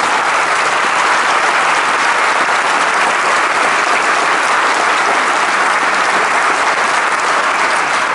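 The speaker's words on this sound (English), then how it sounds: "A round of applause for all of those people." A high school a cappella choir concert audience, alumni among them, gives loud, sustained, even applause for school colleagues, with no voices breaking through the continuous clapping.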